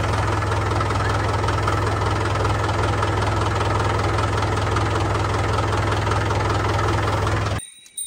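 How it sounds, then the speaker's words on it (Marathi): A tractor engine idles loud and close with a steady low chugging rumble, cutting off abruptly just before the end. "Driving a tractor takes a long time."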